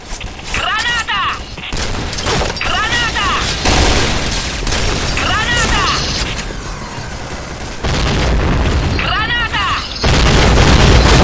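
Grenade blasts and gunfire in the Point Blank shooter game, loud repeated booms and bursts of shots over several seconds, with players talking over the action.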